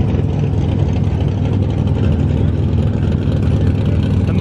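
A Porsche GT2 RS supercar at a show in a parking garage sends out a loud, steady low engine rumble that fills the enclosed space with no break.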